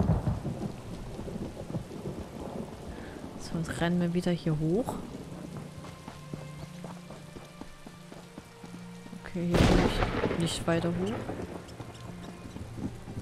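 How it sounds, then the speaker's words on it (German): Rain and rolling thunder from a storm in The Elder Scrolls Online, with two loud thunder rumbles under steady rainfall while someone talks over the game sound. "jetzt regnet es sogar noch"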